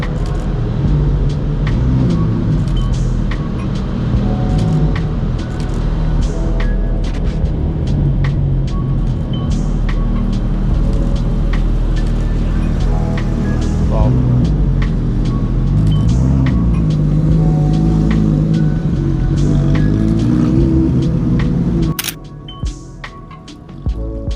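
Two Porsche GT3 RS supercars pass along a busy London street, a loud continuous engine rumble over traffic noise that stays strong for most of the stretch before dropping away near the end.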